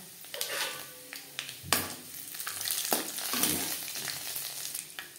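Dry red chillies, bay leaf and panch phoron fry in hot mustard oil: a bright sizzle that flares and crackles in bursts, with stirring scrapes and a few sharp pops, close and fairly loud, with no talking.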